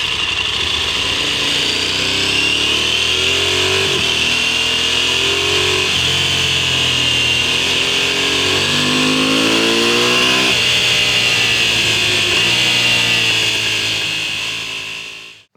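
A motorcycle engine, picked up by a mic mounted on the engine bars, runs loud and close with a buzzy, vibrating drone. It revs up and down in several swells, then fades out at the very end.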